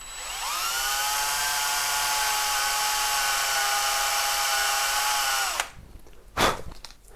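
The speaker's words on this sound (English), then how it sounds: "I'm just going to drill a little 2mm hole there" A high-pitched electric drill whines steadily for several seconds boring a small 2mm hole in wood, then winds down and stops, followed by a few faint clicks and handling noises.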